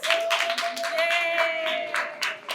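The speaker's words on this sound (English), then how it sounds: "If you can hear me, clap once. If you can hear me, clap twice." A crowd at a community safety meeting in Moss Park claps in scattered bursts while voices talk and call out over the top, the hand claps sharp but mixed into the chatter.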